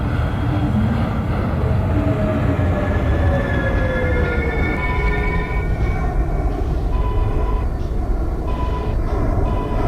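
Loud, continuous rumble of a New York City 2 subway train running, with rising and falling electric motor whine tones and rattling wheels, close and steady throughout, with no voices.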